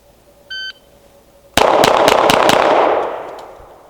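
A CZ P-07 pistol fires a rapid string of about six sharp, loud shots after a brief electronic timer beep, the reports ringing out and fading.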